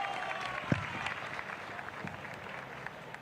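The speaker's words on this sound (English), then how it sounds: "A big applause for Emil." A crowd at a WRC rally opening ceremony in Gran Canaria claps for driver Emil, a soft, steady patter of applause heard from a distance, with a single louder clap near the start.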